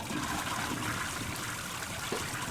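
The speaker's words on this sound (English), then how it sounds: "you hear it. And it's a toilet flushing." A toilet flushes with a steady rush of water, loud and continuous, with no other sounds over it.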